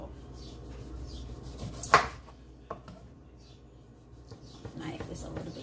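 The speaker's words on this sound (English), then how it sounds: "I'm cutting my lemon and my orange to put on it." A dull kitchen knife slicing through lemon and orange, giving a few soft, scattered cuts and one sharper chop on a board, with low background noise and quiet murmuring.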